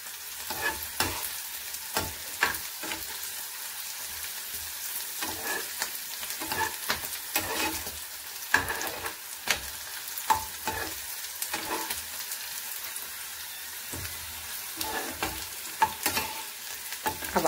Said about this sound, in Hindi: कंटिन्यू हम मिर्ची को चलाते रहेंगे।